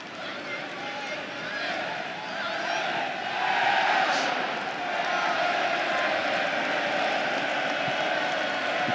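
Crowd noise rolls steadily through a youth football ground during a Leeds U18s versus Millwall U18s FA Youth Cup match, swelling slightly midway, with a commentator talking over it throughout.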